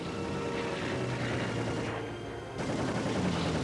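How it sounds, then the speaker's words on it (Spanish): Ammunition exploding in a wartime setting, a continuous crackling, popping barrage of blasts that stays loud throughout, with a brief dip in the middle. "Las explosiones indican que llevaban municiones."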